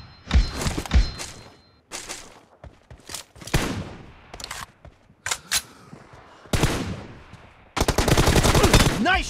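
Gunfire in a team deathmatch video game: repeated close shots and short bursts separated by brief gaps, ending in a loud, rapid automatic stream of fire.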